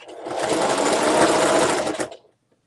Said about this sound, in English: So now we will continue our sewing.